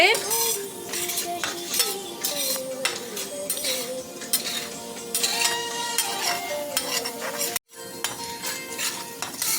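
Peppercorns, cumin and coriander seeds fry in a pan, a steady sizzle broken by repeated clinks and scrapes of a spoon stirring against the metal, with one brief silent gap partway through.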